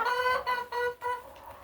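Backyard hens in a hen house give a run of three or four close, clear clucks in quick succession, loud and unaccompanied by speech.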